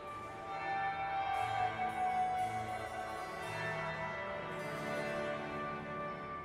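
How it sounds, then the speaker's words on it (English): Church bell ringing in the video game Dragon Age: Inquisition, a sustained resonant toll with long humming overtones, struck again twice and filling the scene steadily without speech. "That would be the second bell."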